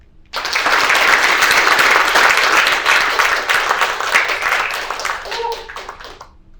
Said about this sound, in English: rousing round of applause for those virtually, and of course for Amanda